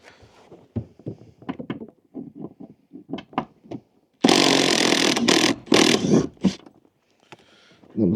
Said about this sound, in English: Basically it's 4 14mm bolts all round. Some of it you can get to with the rattle gun.